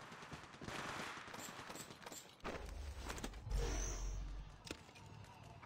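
Rapid automatic gunfire from the mobile shooter game Apex Legends Mobile, bursts of shots that swell and grow heavier midway, with booming low impacts, loud and close, mixed with in-game effects.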